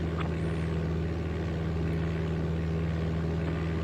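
A Fokker airliner's engines drone steadily on the runway in Flight Simulator 95, a constant loud low hum with a bright tonal whine layered on top and no speech.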